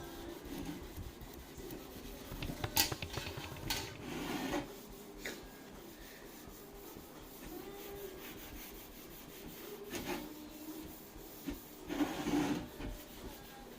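Hand sanding of original paint, a steady close rasping rub with uneven strokes and brief louder scrapes throughout.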